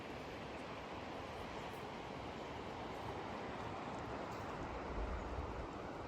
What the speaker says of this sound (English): It's a creek.